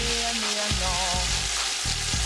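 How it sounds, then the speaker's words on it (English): Tomatoes sauté in a pot with a steady, close sizzle, broken by a few soft clunks as they are moved about. "We'll start off by sauteing our tomatoes"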